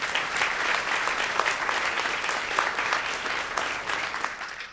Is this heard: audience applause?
yes